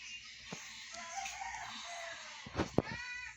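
Chicken clucking in Minecraft, a few short distinct clucks and squawks close by against a quiet background, with a couple of louder bursts near the end.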